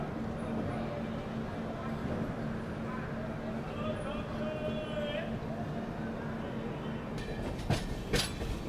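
Bhagat Ki Kothi Express pulling out of Nagda station: a steady, loud rumble of train running gear heard from inside a First AC coach, with rattles and clanks building toward the end.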